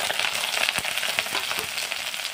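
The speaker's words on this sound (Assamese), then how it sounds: "এইখিনি অলপ ভাজি ল'ম, একেবাৰে ৰঙা নকৰোঁ" Onion, ginger, garlic and green chili fry in hot oil with a cardamom piece, a dense, even sizzle and crackle with a few soft stirring knocks, close up and with no voices.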